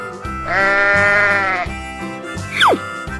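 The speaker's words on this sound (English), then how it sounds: "Sheep." One long, wavering sheep bleat rings out loud and close over a bouncy musical backing, followed by a quick descending whistle effect.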